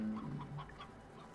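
Chickens from the Slime Rancher video game, a Roostro and hens, give a few soft clucks and short calls across a brief stretch, fairly quiet against a low background hum.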